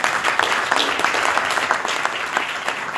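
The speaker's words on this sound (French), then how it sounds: "je vous propose d'applaudir" An audience claps for the morning's speakers at a business-creation breakfast on startup aid, grants and honour loans. The applause is steady, dense and fairly loud, with no voices over it for the whole stretch.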